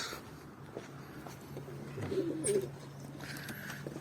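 Pigeons in a loft in Antalya coo softly in low, rolling calls against a quiet room hum, with a few faint chirps mixed in.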